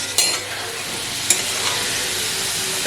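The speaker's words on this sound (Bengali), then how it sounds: "আলুগুলো হয়ে গেছে ভাজা, এবার আমি তুলে নেব।" Potatoes frying in oil in a pan give a steady sizzling hiss, broken by two brief louder clatters as they are stirred; no voices.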